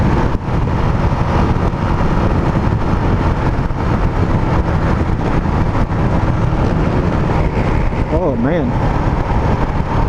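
A 2019 Husqvarna 701 Vitpilen motorcycle being ridden hard, its engine revving loudly and continuously amid wind noise, with a few pops; a voice speaks briefly.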